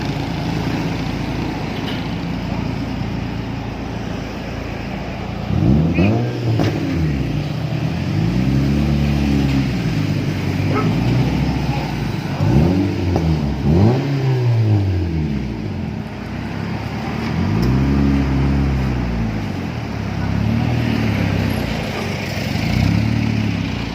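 A Honda Civic fitted with an HKS muffler revs repeatedly, each throttle blip swelling into a loud, deep exhaust roar and falling back to a rumbling idle, close and alone.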